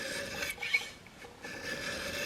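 Filing away the burr on a Zwickey broadhead blade gives a close, steady rasping scrape that pauses briefly midway and then carries on.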